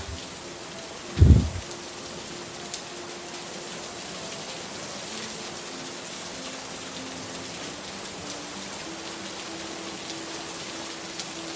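Steady rain falls throughout, a continuous even hiss of drops on surfaces with a single brief thump near the start and no voices.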